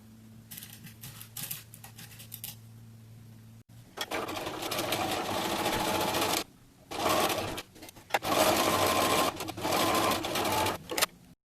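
Sewing machine stitching the side seams of a fabric cupcake costume with a 1/4 inch seam allowance, running in several loud bursts separated by short pauses, preceded by a quieter low hum.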